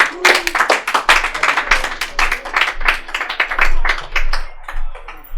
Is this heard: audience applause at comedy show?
yes